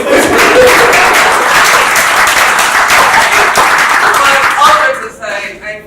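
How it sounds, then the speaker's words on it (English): Audience applause for the Co-Creation Hub (CCHUB) at Innovative Showcase Week 2019, a loud sustained burst of many hands clapping in a hall that holds steady for about five seconds, then thins out and fades. "Can you give CCHUB a round of applause?"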